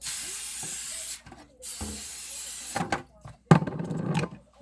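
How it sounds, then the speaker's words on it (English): Two bursts of hissing cooking spray onto a pan, the first lasting about a second, the second after a short pause, followed by clattering and soft kitchen noise. "Let me spray my pan."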